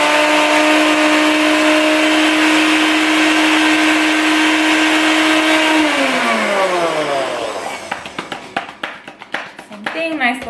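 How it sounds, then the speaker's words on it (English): A blender blending frozen fruit for an acai bowl runs loudly and steadily, then winds down in pitch and stops, followed by rattling knocks as it is shaken; a voice speaks over it. "blend it just for a little bit and pulse it and get everything nice and mixed"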